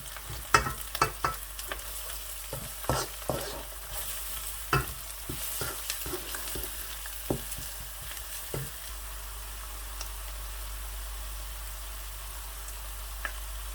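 Onion and garlic paste browning in a pan for masala chicken, scraped and stirred with a spoon in a series of close, sharp clacks and scrapes over a faint sizzle, the stirring stopping partway while the low frying hiss carries on.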